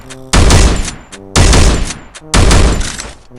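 Winchester rifle firing in the game Free Fire: three loud, evenly spaced shots about a second apart, each with a long blasting tail, and no talking.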